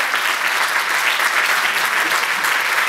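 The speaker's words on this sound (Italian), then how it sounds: "accogliamoli con un applauso" A concert audience gives loud, sustained applause as a children's choir comes on stage at an end-of-year music recital in Grado. The dense, even clapping fills the whole stretch with no talk.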